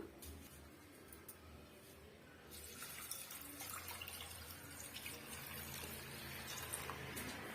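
Steady stream of water running and splashing into a bowl of banana stem soup ingredients, growing slightly louder partway through, with faint clinks.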